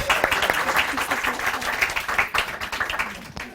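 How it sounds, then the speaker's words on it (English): Audience applause welcoming author Ritu Sethi at the launch of her book at the Apex Centre, a dense, sustained crowd clapping with some voices underneath, fading slightly at the end. "A clap for her, I think, to start with."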